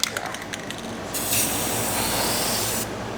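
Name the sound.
spray paint being sprayed to mark an engine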